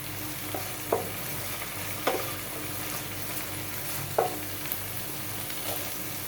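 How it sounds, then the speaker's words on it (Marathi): Food sautéing in hot oil in a pan while cooking a Malvani black vatana curry, a steady sizzle broken by a few sharp stirring scrapes and clinks, heard close with no talking. "थोडं 1 सेकंदासाठी तिला परतून घेते आणि लगेचच टोमॅटो घालते।"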